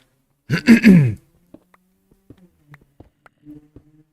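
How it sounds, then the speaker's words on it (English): A man clears his throat once with a short, rough rasp, followed by scattered faint clicks and small noises in otherwise quiet surroundings. "I'm constantly clearing my throat"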